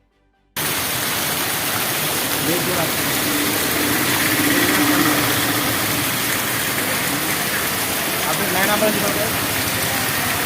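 Steady, heavy unseasonal rain in Pusad hisses continuously after a brief silent start, a dense wash of noise that holds at an even loudness throughout.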